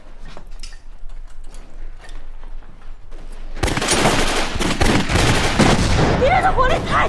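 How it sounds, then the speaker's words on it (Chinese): Heavy gunfire erupts partway through a film battle scene, a dense loud barrage of enemy shots and blasts with scattered voices beforehand. "敌人的火力太强了"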